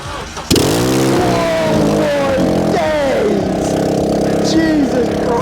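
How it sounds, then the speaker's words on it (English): A cheap hot hatch track car starts up with no exhaust manifold fitted. The engine catches abruptly into a loud, raw, rattly idle with an open, unmuffled rasp, and a voice speaks briefly over it. "here's a little startup with no manifold on"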